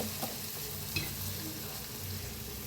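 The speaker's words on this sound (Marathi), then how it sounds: "तेल बी आपलं गरम झालेलं आहे. तेल ठेवलं होतं मी. तर असं मस्त असं तेलात सोडायचं" Capsicum pakoras in batter drop into hot oil and fry with a steady, dense sizzle throughout, broken by a faint clink or two, with no voices.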